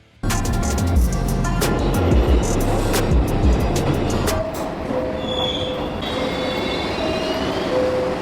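A New York City subway train rumbles loudly through a station, steady heavy wheel noise with high metallic squeals and screeching tones, the roar easing slightly midway, with no voices.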